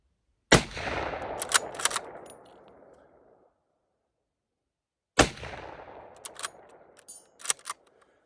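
Two rifle shots of 7.62x54R rounds at an outdoor range, each a sharp loud crack followed by a long echoing tail with faint clinks, spaced about five seconds apart.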